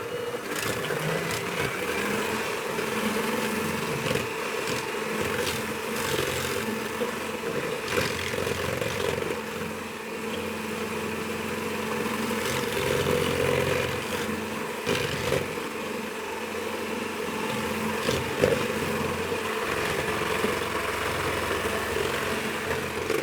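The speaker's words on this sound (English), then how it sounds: "we can whisk our eggs with the sugar, and I want to whisk these for 5 or 6 minutes" An electric mixer whisking eggs with sugar for a brownie cookie batter, a steady, continuous whirring hum that carries on at an even level throughout.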